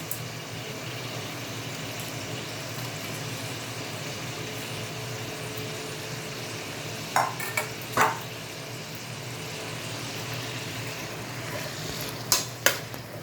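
Cabbage sizzles softly in a pan for Cantonese noodles, a steady hiss punctuated by a few clinks and scrapes from stirring, heard alone and fairly close.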